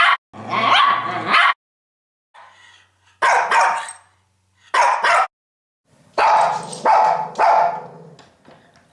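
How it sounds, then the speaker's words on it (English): A single dog barks in several loud, close bursts separated by short silences, with a quieter yip or whimper between them and no talking. "a dog barking at a toy, a dog barking at a stranger at the door, or a dog barking at another dog while they're playing"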